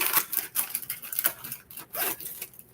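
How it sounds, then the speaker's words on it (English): Scissors snipping open a packet of brownie mix in a kitchen, a quick run of crisp, close cuts and crinkling plastic with short pauses between snips. "I'm going to cut my brownie mix open."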